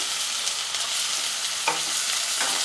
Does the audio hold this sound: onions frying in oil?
yes